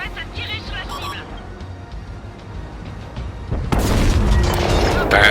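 A tank cannon firing in the video game World of Tanks, a loud broadband boom that erupts suddenly late in the clip and sustains a heavy rumble, preceded by quieter game ambience and engine noise.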